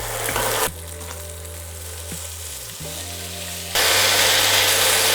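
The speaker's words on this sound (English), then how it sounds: "So now you can start adding in your shrimp." Shrimp drop into hot chorizo fat in a pan for a warm Spanish shrimp salad, the sizzle dropping briefly and then surging to a loud, bright, constant crackle close by, with a steady low hum underneath.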